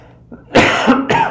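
A couple of harsh, loud coughs close to the mic, the second following a brief pause, after a quiet throat sound.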